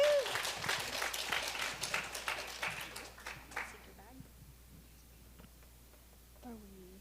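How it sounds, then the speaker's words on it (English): Applause from a conference audience at an ESL career event starts loud and scattered, then dies away within a few seconds, leaving a quiet room where a voice is heard. "Round of applause."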